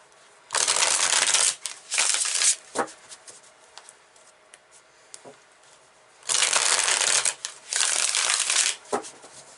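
Tarot cards are riffled and shuffled in bursts of crisp, rapid fluttering, two quick runs, then a quiet pause with light taps, then two more runs. The sound is close and loud with no talking.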